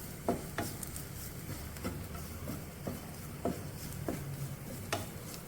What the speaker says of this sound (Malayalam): ഇത്രയും പൊടികളിട്ടിട്ട് നന്നായിട്ട് വഴറ്റി കൊടുക്കുക.